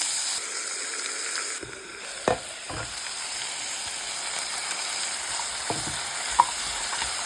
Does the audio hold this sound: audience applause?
no